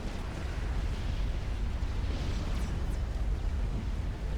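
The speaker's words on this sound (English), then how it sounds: "Now getting hailed upon with these massive artillery shells." Massive artillery shells land in Supreme Commander Forged Alliance Forever, a continuous heavy rumble of blasts merging into a dense roaring barrage with no clear gaps.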